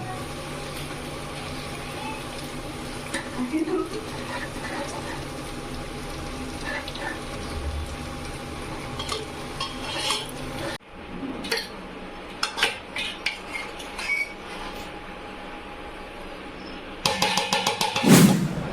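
A spoon scrapes and clatters in a pan of poha and potatoes being stirred, with irregular metallic knocks and scrapes over a steady background hum, growing sharper and louder near the end.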